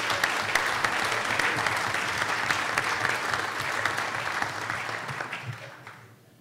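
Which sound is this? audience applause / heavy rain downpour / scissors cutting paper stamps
audience applause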